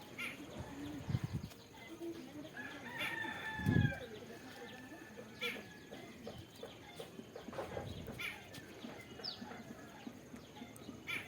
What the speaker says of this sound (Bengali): আমাদের এই বাড়ির পাশে যে বট গাছটা আছে সেই গাছটাতে কিন্তু সারাটা দিন পাখি কিচিরমিচির করতেই